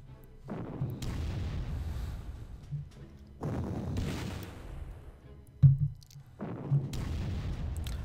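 Artillery fire in the wartime strategy game Panzer Corps, three heavy booming blasts spaced a couple of seconds apart, each with a long rolling rumble, plus a smaller pop between them.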